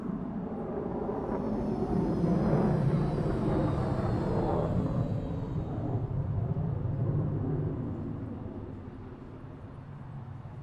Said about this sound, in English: Honestly, I love how there's planes in this game.